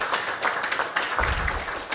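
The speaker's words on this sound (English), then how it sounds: "A round of applause once more." Audience applause at a green finance conference in Malawi, a dense, steady wash of many hands clapping in a large hall with no voices over it.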